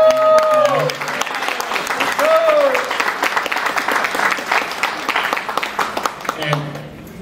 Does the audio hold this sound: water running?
no